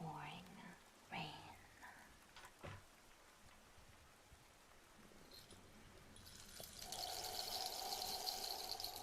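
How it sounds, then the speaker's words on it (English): Pouring rain in a botanical garden setting, very faint at first under soft talk, then swelling into a steady hiss of falling rain toward the end. "you step out into the pouring rain"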